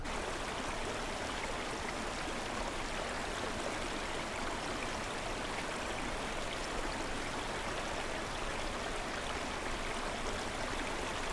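Steady, continuous rush of flowing water from the game Far Cry Primal, like a stream or small waterfall, even and unbroken throughout with no talk over it.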